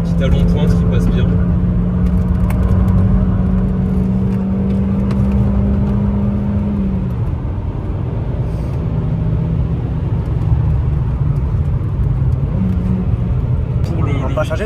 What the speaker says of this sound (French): Petit talon pointe qui passe bien.